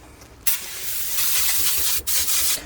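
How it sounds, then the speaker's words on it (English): An aerosol can of oven and grill cleaner sprays in a long steady hiss over a motorhome cooker, pausing briefly and resuming, close up with no talking. "simple oven and grill cleaner here, and we're going to spray this all over"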